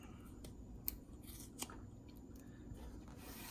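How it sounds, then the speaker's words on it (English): Scissors cut through a length of paracord, giving a couple of quiet, crisp snips against a faint background hiss, with no talking. "take our scissors"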